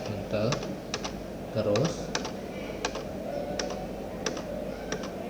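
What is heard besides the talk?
typing on a computer keyboard, pressing enter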